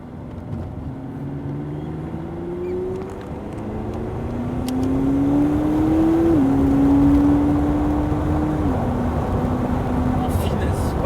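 A McLaren sports car engine rises in pitch as it accelerates on the road, with a gear change partway through. The drone is loud and close, and a driver keeps talking over it.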